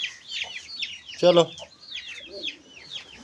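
Chicken clucks from a rooster in a Punjab village yard, with many birds chirping overlapping in the background and one louder nearby cluck burst; a person speaks briefly.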